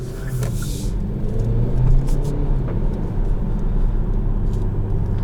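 A 2021 Kia Stinger GT-Line accelerates on a night drive, its engine and road rumble heard from inside the cabin, building steadily before settling into a loud constant drone, with no talking.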